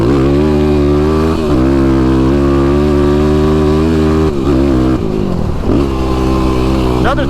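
A dirt-bike-style motorcycle with a flashed ECU and new Vortex unit revving hard while riding across a road, a loud close engine note rising and dipping through throttle changes, with gear shifts and wind noise.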